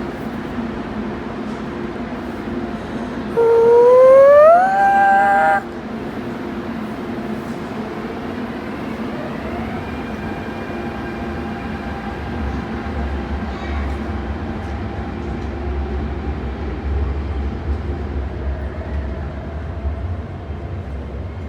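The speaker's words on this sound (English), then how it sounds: "And A train again." An MTR train passes through Tsing Yi Station in Hong Kong, with a steady rumble of wheels and motors, a rising electric whine near the start and continuous platform noise throughout.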